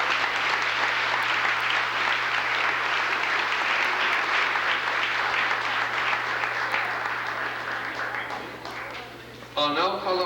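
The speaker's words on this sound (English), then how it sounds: "So let's give a big round of applause for all these students, please." A graduation audience for Coaker Academy's class of 1990 gives the graduating students a long, steady round of applause that fills the hall for about nine seconds, then fades as a voice begins speaking.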